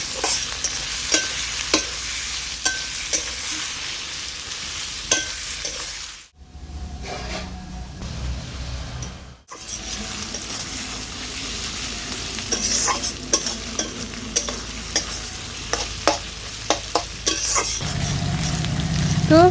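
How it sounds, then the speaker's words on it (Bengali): Chopped onions sizzle steadily in hot oil in a pan, with a constant frying hiss and occasional stirring clatter, briefly dropping out in the middle before resuming. "এবার পেঁয়াজটাকে আমি হালকা ভেজে নেব।"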